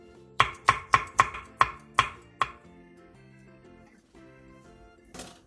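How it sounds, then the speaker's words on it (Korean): A knife chops a red chili pepper on a cutting board, seven quick crisp strikes in a steady rhythm, close and loud, then quieter faint board sounds and a last soft knock, no talking. "홍고추 1개를 쫑쫑 썰어주세요."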